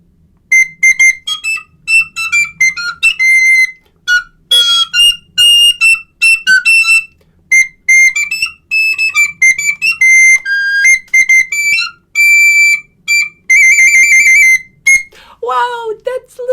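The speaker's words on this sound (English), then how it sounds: "It's a little recorder. Let's see what this sounds like." Small recorder played close and loud, piercing high notes in quick, choppy bursts with short gaps, a wavering trill near the end and a sliding falling note to finish.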